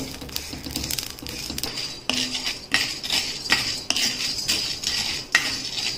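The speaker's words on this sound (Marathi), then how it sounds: "जिरे चांगलं खरपूस भाजून घ्यायचे आहेत" Cumin seeds dry-roast in a pan for a homemade Bhandari garam masala, a spatula clinking and scraping against the metal in irregular taps and sweeps, fairly close and without talk.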